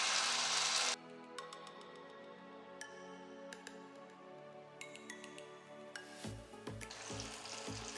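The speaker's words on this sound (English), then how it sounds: "We will be shallow frying" Semolina potato cutlets shallow frying in hot oil, with a loud burst of sizzling at the start, then quieter crackle under faint clinks and taps, and a second sizzling surge with thumps near the end as more batter goes in.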